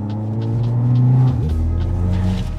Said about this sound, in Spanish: ¿Y qué pasa con la caja? Que suena, mira.